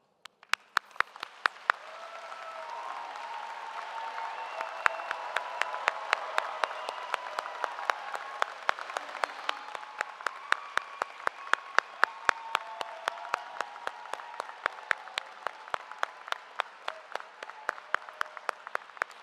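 High school graduation crowd at Utica Academy for International Studies applauding valedictorians and salutatorians: sustained dense clapping from a large audience, building after a few early sharp claps, with scattered loud individual claps and faint cheering underneath.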